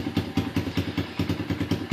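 An Apollo ADR 125 dirt bike engine idles steadily once warmed up, a loud, close, even putter of rhythmic firing pulses with no speech.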